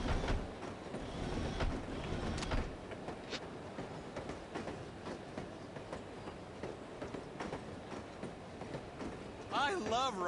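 A train rolls along in the video game No One Lives Forever, with a continuous rumbling ride and rhythmic clatter from the wheels, while people talk over it and a voice rises near the end.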